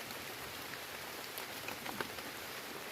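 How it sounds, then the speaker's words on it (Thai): Steady rain falls in a soft, even hiss, with a few individual drops pattering close by. "ฝนตกนะ"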